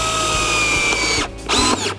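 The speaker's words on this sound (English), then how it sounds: "And I want to get this started with the drill." A power drill whirs in short bursts, pausing and restarting as it drives screws into boat brightwork, close and loud with no talking.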